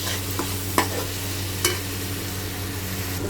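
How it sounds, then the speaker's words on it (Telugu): Mutton pieces frying with chili powder for a curry give a steady close sizzle, broken by a few sharp knocks of a spoon as the pan is stirred. "వీటిని కూడా ఒక 2 మినిట్స్ బాగా పచ్చి స్మెల్ పోయేంతవరకు వేయించుకోవాలి"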